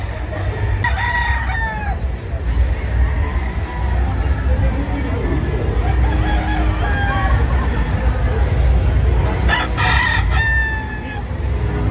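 Several roosters crow one after another at a rooster fair booth over a busy background of chatter and murmuring voices, with a loud burst of overlapping crows near the end.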